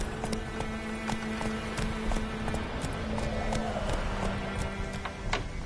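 Horse hooves clip-clop in a quick, steady rhythm in The Witcher 3 video game, moderately loud against ambient game background sound.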